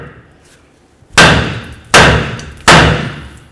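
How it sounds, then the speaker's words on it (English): A hammer strikes a car's suspension to knock loose a ball joint, landing three loud, sharp metallic blows spaced under a second apart, each ringing briefly before fading, with no talking. "Use your hammer, separate this area."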